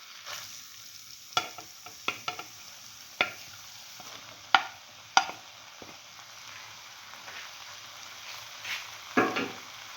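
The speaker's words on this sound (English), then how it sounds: "Now put in the bread pieces that we made into small pieces and mix" Bread pieces are stirred into a sizzling potato stir fry in a pan, with a steady frying hiss under a series of sharp scraping and clinking strokes of the spatula, close and distinct.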